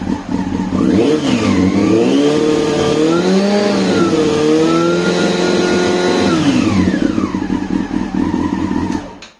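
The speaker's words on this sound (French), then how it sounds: "Je mets du gaz" A close engine is revved up, its pitch rising and holding high for several seconds before dropping back toward idle.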